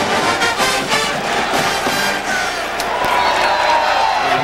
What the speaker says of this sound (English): LSU pit band that has traveled over here from Baton Rouge, making a lot of noise down there in that cheering section